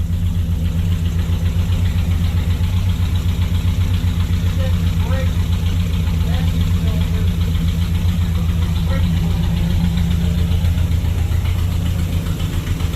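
A 1970 Chrysler Newport convertible's engine idles loud and close with a steady, throbbing low rumble and slight knocking pulse throughout, while voices talk over it.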